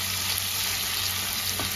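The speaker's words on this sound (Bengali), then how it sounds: "এবার আরো 1 মিনিট একটু ভেজে নেব।" Fish heads sizzle in hot oil in a pan, a loud, constant crackling fry heard up close with no talk over it.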